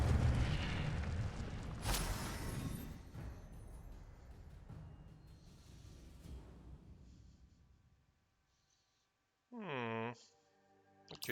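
Incendio fire spell in Hogwarts Legacy erupts as a loud, booming whoosh of flame that rumbles and slowly fades away, followed by a short tonal chime-like sound near the end.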